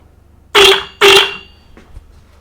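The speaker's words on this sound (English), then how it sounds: "if we operate the horn switch on the RBT, the horns should sound" Two loud, short blasts of electric horns close by, triggered through a 4QD horn relay board, followed by a faint click.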